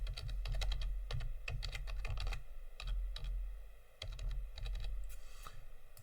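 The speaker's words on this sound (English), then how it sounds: "Type in your email, type in your name," Computer keyboard typing as an email and name are entered into an online booking form for hiring a golf cart, quick bursts of close key clicks with short pauses, no voices.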